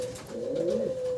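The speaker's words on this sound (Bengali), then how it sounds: "সাদা দবদবে এক জোড়া জিরো ফেদার বয়সের জায়ান্ট হুমার বেবি দেখতেছেন আপনারা" A pair of white zero-feather Giant Homer pigeon chicks coo in one short, continuous, close call with a wavering tone.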